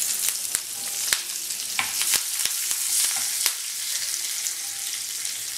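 Fenugreek, asafoetida, curry leaves and onion frying in oil in a pan for vatha kulambu, a crackling sizzle with sharp spattering pops and spoon scrapes over a steady hiss, no speech.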